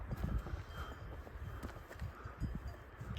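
Horses walking close by on a path, hooves clip-clopping in an uneven, steady rhythm over low wind and ambient rumble, with no one talking.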